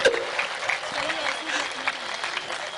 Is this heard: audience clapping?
yes